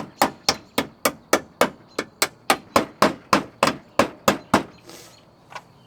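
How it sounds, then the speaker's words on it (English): A hammer strikes the back pinch weld seam on a 4th gen Toyota 4Runner in a steady run of about fifteen sharp metallic blows at close range, evenly spaced, then a pause and one lighter tap. "Alright, I'm going to hammer this back just a little bit."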